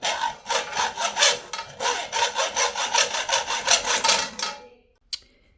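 A tube being sawn by hand with steady back-and-forth strokes, a close rasping rhythm of about a dozen strokes that fades out, followed by a single faint knock.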